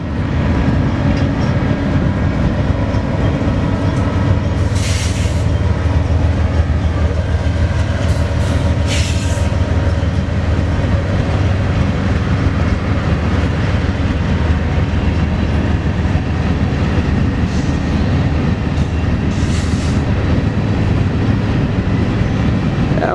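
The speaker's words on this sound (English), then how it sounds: "4028 lead locomotive." BNSF Railway locomotive 4028 leads an eastbound train past a spot off Trent Avenue in Spokane, Washington, with a loud, continuous rumble and rhythmic clickety-clack of wheels on rails and a few brief high wheel squeals, with no talking.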